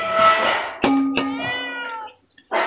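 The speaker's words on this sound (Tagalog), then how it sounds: "Kahit saan ka lang lumingon, may pusa." A cat meows in a few short, close calls, with a metallic clang or ding between them, in a shelter where many rescued cats and dogs are kept.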